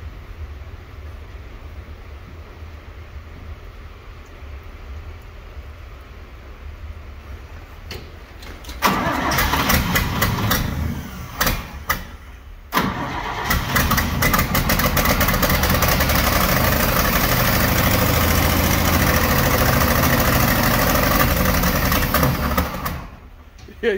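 A 1956 International S-160 truck's engine cranks and catches, stumbles and dies briefly, then fires again and runs loudly for about ten seconds before shutting off.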